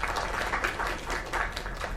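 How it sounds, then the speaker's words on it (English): Steady applause from a crowd, dense clapping that holds at an even level throughout with no voices standing out. "Another round of applause."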